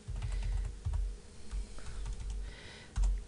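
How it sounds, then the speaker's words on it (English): Someone types on a computer keyboard, one-handed, producing quiet, close, irregular key clicks in a steady run with brief pauses. "I hate typing with one hand."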